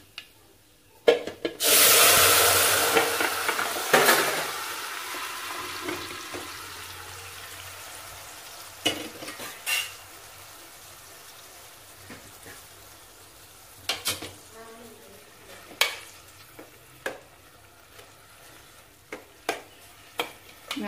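Amaranth stem greens tipped into a hot tempering of dried chillies for a Tamil thandu keerai kuzhambu, a loud sizzling burst as they hit the oil, then quieter frying with scattered stirring clatters, no talk.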